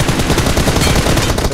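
Rapid gunfire in the PUBG video game on the Livik map, a dense, loud burst of automatic shots fired in quick succession for about a second and a half.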